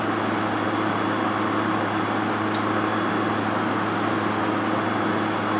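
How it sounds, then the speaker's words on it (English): A steady mechanical hum and whir of a VWR Model 1177 recirculating chiller's compressor drones evenly throughout, with no talking. "You can hear the compressor is on right now."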